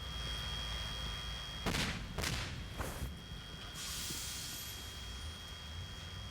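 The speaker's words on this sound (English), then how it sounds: "to capture a series of shots of an explosion and car crash that will appear as a single sequence on film" A movie stunt explosion and car crash sounds as a few sharp, distant blasts and thuds in quick succession over a hissing background, followed by a softer rushing noise.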